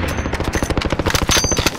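Rapid automatic gunfire in Call of Duty Warzone rattles off as a dense, loud burst of closely spaced shots lasting just under two seconds, with no voices over it.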